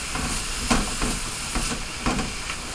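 Something sautéing gently in a pan without browning, a steady soft hiss with a few faint clicks and scrapes scattered through it, continuous and fairly quiet throughout.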